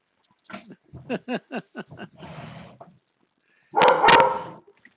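A dog indoors barks: a rhythmic run of short yelping calls, then, after a pause, two loud, close, harsh barks in quick succession.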